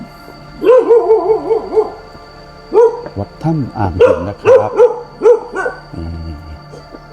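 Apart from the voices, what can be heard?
dog barking at temple visitors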